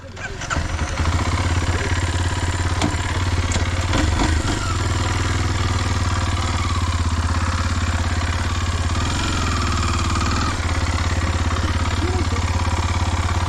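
A motorcycle on an off-road trail in Vietnam's mountains toward Sa Pa runs steadily and loudly at close range, its engine idling and rumbling throughout with occasional clatter.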